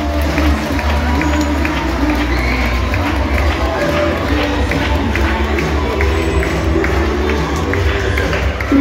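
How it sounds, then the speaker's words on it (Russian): An audience at the Minsk dolphinarium in Belarus applauds in a dense, steady wash of clapping mixed with crowd noise and scattered voices. It is loud and continuous throughout, with no pause. "Аплодисменты для вас."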